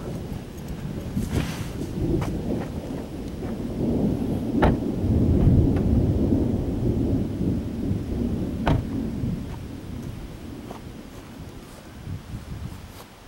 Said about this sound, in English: This is a severe thunderstorm.